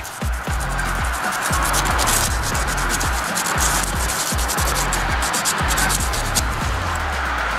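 Rhythmic rubbing and scrubbing on the distributor rotor button of a 1963 Volkswagen tub buggy left sitting for 12 years, repeated short strokes, close and steady, with no talking.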